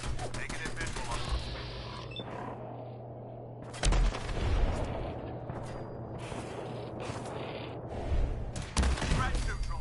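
Turret gunfire in Fallout 4 inside a synth-compromised facility: dense bursts of shots over a steady low hum, with louder blasts near four and nine seconds, and voices talking throughout.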